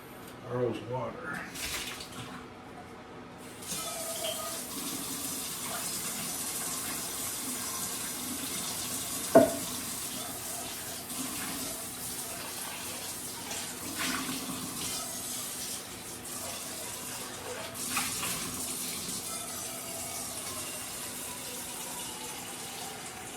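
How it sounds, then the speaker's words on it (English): Water runs from a kitchen tap into a pet's water bowl, a steady splashing flow lasting throughout, with household clatter and a sharp knock partway through. "Oh, Earl's water."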